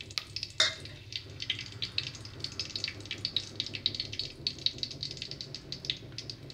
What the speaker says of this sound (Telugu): ఆయిల్ హీట్ అయింది, ఇప్పుడు వేసేసుకుందాము.